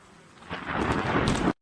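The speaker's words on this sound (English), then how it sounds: "this plane was struck by lightning when flying over Finland." A sharp crack of thunder from a lightning strike bursts and rumbles loudly for about a second, with rain noise around it, then cuts off abruptly.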